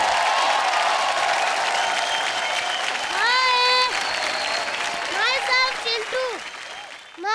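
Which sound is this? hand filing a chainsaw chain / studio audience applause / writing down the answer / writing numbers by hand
studio audience applause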